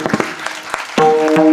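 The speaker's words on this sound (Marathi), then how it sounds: "एकदा गायक वादक साठी जोरदार टाळ्या झाल्या पाहिजे." A kirtan audience claps for the singers and musicians, starting with scattered hand claps that swell into louder, fuller applause as a sustained instrumental tone enters beneath.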